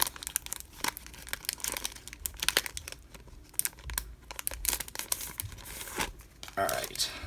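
Plastic packaging crinkles and tears close by as a mail package of Pokemon card singles from Japan is opened, with irregular crackling handling noises throughout.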